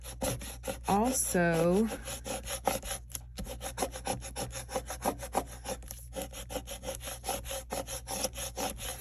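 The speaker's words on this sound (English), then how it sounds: "flip it over and scrape the back" Transfer tape pressed onto craft vinyl gets its backing scraped with a tool in rapid repeated strokes, a close rhythmic rasp that keeps going throughout, with a brief spoken word near the start.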